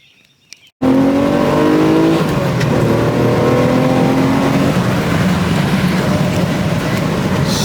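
A Mitsubishi Eclipse engine catching and running loud and close, holding a rough steady idle with some revving and a slightly flooded, uneven note throughout.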